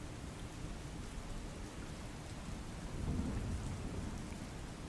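Heavy monsoon rain pours in Surendranagar, a dense continuous hiss of rainfall with a deep thunder rumble swelling near the end, fairly quiet overall and with no voices.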